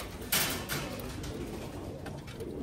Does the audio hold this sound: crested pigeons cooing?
yes